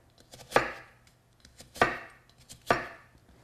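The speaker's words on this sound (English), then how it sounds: "Oh, so we're dicing onions?" A knife dicing onions on a cutting board, three distinct, crisp chops spaced about a second apart, close and clear with no talking.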